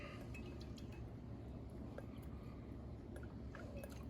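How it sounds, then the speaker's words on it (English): A drink stirred with a baseball toothpick instead of a spoon, giving soft, faint clinks and light liquid swirling against the glass over a low steady room hum, no talking. "I'm stirring it."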